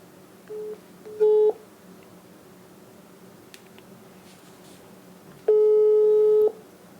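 Telephone ringback tones sound on an outgoing call: two short beeps, a pause, then one longer steady tone, clear and electronic over faint line hiss.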